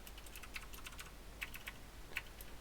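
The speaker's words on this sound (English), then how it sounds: "I'm thinking while typing at the same time, which is never a good idea." Keys clatter on a computer keyboard in quick, uneven bursts of clicks, faint and close, while someone codes at a desk, with no talking.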